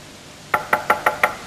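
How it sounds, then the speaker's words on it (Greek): Five quick, evenly spaced knocks on a door in a Karagiozis shadow-puppet play, crisp and close, against a quiet background with no talking. "Η πόρτα χτυπάει, παιδί μου."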